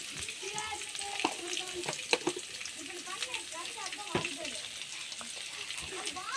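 Beetroot chutney sautés in a pan, giving a soft sizzle with scattered stirring scrapes and clicks while a person talks over it at moderate volume.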